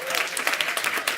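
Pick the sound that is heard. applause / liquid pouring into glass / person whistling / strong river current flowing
applause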